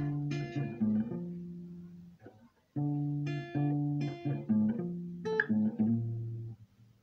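An electric guitar plays a riff in short phrases, clear sustained chords and picked notes with brief gaps between them, close and alone.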